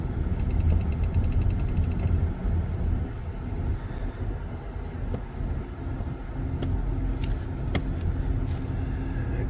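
A 2013 Kia Optima Hybrid, suffering generator motor position sensor faults, drives on a test run, giving a steady low road and engine rumble inside the cabin with a few brief clicks and knocks near the end.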